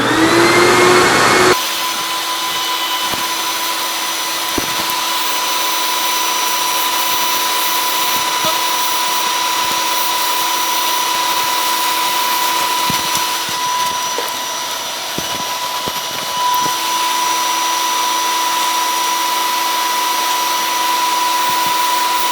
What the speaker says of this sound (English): So I'll get ready and put a little finish on there and do a little bit of sanding.